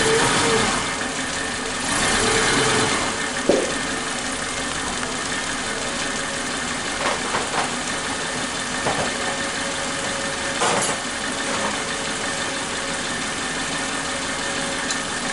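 A Suzuki Katana motorcycle engine idling roughly with one dead spark plug, a steady uneven mid-pitched rumble with faint knocking and a few louder bumps, close and continuous without talk.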